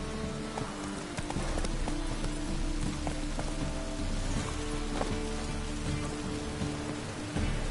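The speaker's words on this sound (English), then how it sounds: "Lots of fuss over lots of rain." Steady rain in The Witcher 3 patters on a surface, dense and continuous, with scattered sharper drop taps and a low rumble underneath.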